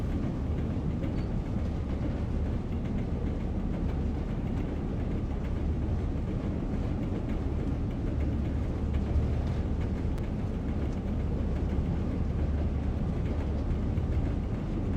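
A train rolls along the track with no throttle in Train Sim World on the Manchester to Leeds line, heard as a steady, even rumble of wheels and running gear that fills the background without letup.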